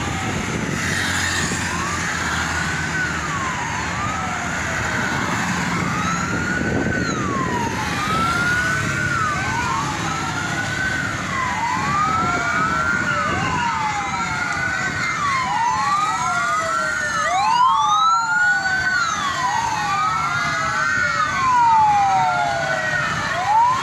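A Banten fire brigade fire truck siren wails in repeated rising and falling sweeps, loud and steady over street traffic noise for the whole stretch, with no talking.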